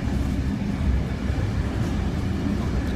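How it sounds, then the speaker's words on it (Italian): A regional passenger train runs steadily, heard from inside a second-class carriage as a loud, constant low rumble and rolling rail noise with no speech. "Treni regionali."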